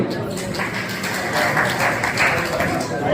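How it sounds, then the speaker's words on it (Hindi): Applause for two newly sworn-in municipal councillors at a council office, a steady dense wash of clapping with some voices mixed in, moderately loud throughout. "तो जोरदार तालियां।"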